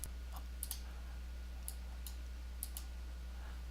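Crisp computer mouse clicks sound close and faint, mostly in quick pairs, spaced across a quiet room over a steady low electrical hum.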